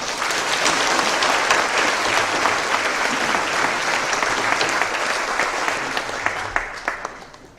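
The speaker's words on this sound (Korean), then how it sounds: "그런 기원하는 마음을 우리 박수로 크게 한번 합시다." A church congregation applauds loudly and steadily during a pastor emeritus installation service, the clapping thinning out into scattered individual claps before fading.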